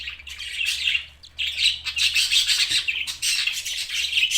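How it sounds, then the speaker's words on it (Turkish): Shrill, rasping chirps from young cockatiel chicks calling almost nonstop, close and loud, with a brief pause near the middle. "Şu an sultan papağanın yavrularını kontrol ediyoruz."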